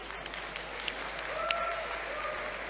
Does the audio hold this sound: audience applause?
yes